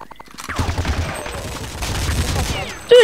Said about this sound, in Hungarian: Nem így pisztolyozzál már!